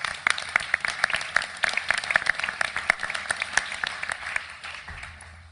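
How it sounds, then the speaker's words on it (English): Applause for a university baseball team at a board meeting, with sharp individual claps standing out over the steady clatter of a modest indoor crowd, tapering off near the end. "Please give them a big round of applause."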